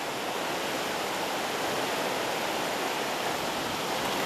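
A strong river current rushing through a steep Bolivian valley beneath a swaying footbridge, heard as a loud, unbroken roar of water that fills the whole moment without pause.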